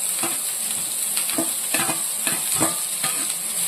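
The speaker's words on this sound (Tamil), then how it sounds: "எல்லாம் போட்டு லேசாக வதக்கணும் சிம்மிலே வச்சு வதக்குங்க" Onion, cabbage and carrot sizzle steadily on low heat in a pan while a spoon stirs them in repeated scraping strokes, with no talking.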